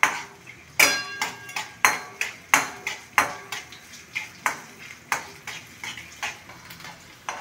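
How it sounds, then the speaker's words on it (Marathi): Onions frying in oil over a high flame are stirred in a pan, making a regular series of sharp spoon-on-pan scrapes and knocks above a soft, steady sizzle, with no talk. "कांदा छान मऊ होईपर्यंत भाजायचा आहे आपल्याला."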